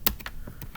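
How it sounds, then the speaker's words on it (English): Fast typing on a computer keyboard, a quick handful of close, light key clicks in under a second, heard alone with no talk over it. "I'm going to fix my typing, as you can see."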